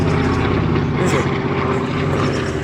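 An aircraft passes by near Marston Green beside the West Coast Main Line, a loud continuous engine roar that holds steady throughout.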